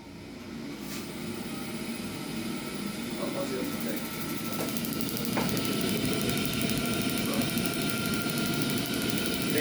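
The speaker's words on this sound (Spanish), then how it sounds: "esperemos un segundito que vuelva a encender la caldera" A wall-mounted combination gas boiler relights after an E1/E3 error, its close, steady, roaring hum swelling gradually over several seconds, with a few faint mechanical clicks along the way.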